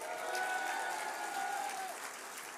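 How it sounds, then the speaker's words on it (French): A crowd at a Reconquête political rally for Eric Zemmour applauds in a steady, dense wash of clapping for about two seconds. A thin whistle-like tone rides above it, then the clapping thins slightly. "Vous avez eu raison d'applaudir nos futurs députés Reconquête."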